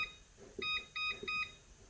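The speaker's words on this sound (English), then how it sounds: "I'm just going to set a timer so I don't forget" A kitchen timer set while cooking beeps three times in quick bursts, each a thin, high electronic tone with brief taps of button presses between, faint and close in a quiet kitchen.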